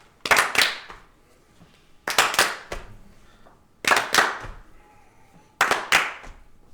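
Hands clap in four separate bursts, each a quick cluster of sharp slaps spaced roughly two seconds apart, close and fairly loud against a quiet background.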